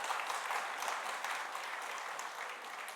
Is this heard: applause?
yes